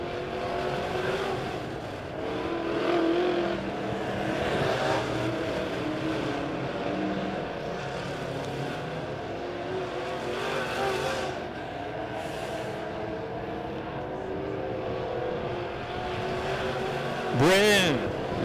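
Dirt track race cars roar out of turn four and down the front stretch at Springfield Raceway, a continuous engine drone rising and fading as they pass, with an announcer talking over it and a sharp whine near the end.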